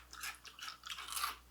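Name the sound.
crunching and chewing Froot Loops cereal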